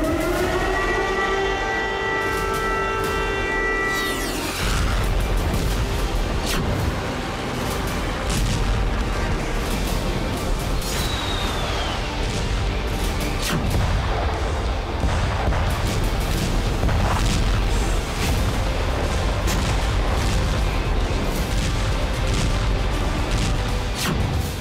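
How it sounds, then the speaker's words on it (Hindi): An air raid siren wailing in Kyiv, Ukraine, its rising tone giving way to a dense, loud wash of sound with repeated booming thuds and crackling bursts through the rest of the stretch. "यूक्रेन की राजधानी कीव में अचानक गूंजने लगा सायरन।"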